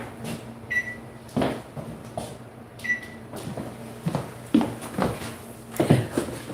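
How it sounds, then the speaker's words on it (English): A kitchen oven timer beeps, two short, thin electronic tones a couple of seconds apart, faint against a low room background with scattered voice-like sounds. "My oven's about to go off."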